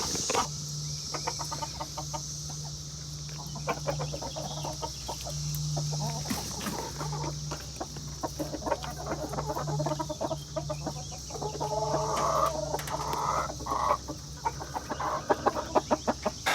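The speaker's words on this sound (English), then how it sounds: "there's a chicken inside of this box right now" Chickens cluck and murmur from inside a coop nest box, a steady busy chatter with scattered sharper clucks, fairly close, under a constant low hum.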